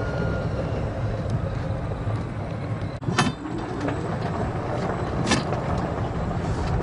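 A fox shooting vehicle drives along with a constant low rumble and road noise, close and steady, broken by a couple of brief clunks.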